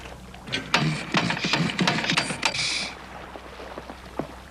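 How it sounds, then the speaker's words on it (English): A diving air compressor motor struggles to start at altitude, giving a series of irregular mechanical clicks, creaks and ratcheting pulls that are close and fairly quiet, followed by a lull and one last click. "But the compressor experiences altitude problems of its own. The air does not provide sufficient oxygen for the motor to catch."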